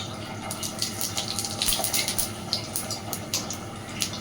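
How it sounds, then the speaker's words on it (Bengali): Whole cumin seeds hit hot oil for tempering, already used to fry fish heads, in a Bengali cabbage dish, giving a dense, continuous sizzle with crackling pops throughout. "এই একই তেলে এবার আমি ফোড়নে দিচ্ছি একটু আস্ত জিরে"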